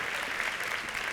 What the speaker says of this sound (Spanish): Pido un fuerte aplauso porque aquí se nota ese calorcito para Diana Cabello Muro